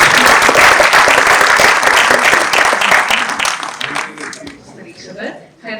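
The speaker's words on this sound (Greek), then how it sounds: "Φυσικά, ένα χειροκρότημα για την Αμέλεια." Applause from a film festival crowd fills the room at full strength, then thins toward the end as a voice starts speaking over the last scattered claps.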